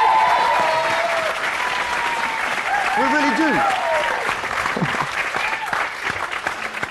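A UK television studio audience breaks into sustained applause, loud and steady throughout, while someone talks over the clapping and a few voices cheer.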